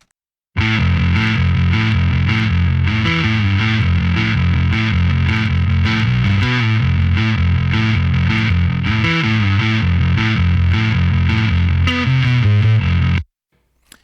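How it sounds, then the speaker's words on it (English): A bass guitar with heavy, fuzzy distortion from a Line 6 Helix preset plays a steady, loud riff on its own for several seconds, then stops abruptly. "It has a really fuzzy distortion characteristic"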